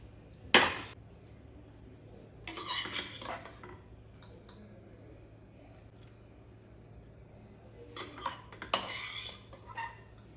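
A metal utensil clatters against a pot while cooked rice is stirred into pepper chicken biryani, in three separate bursts of scraping and knocking with quiet pauses between them.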